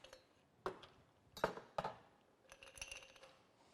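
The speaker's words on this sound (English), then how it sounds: "Put some ice in our Collins glass." Ice cubes dropping into a tall Collins glass while a cocktail is mixed, giving a few sharp, separate clinks followed by a brief cluster of lighter rattles, quiet and close with no talking.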